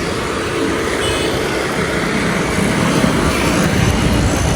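An airplane taking off at an airport, heard as a loud, continuous broadband engine roar that holds steady and swells slightly toward the end.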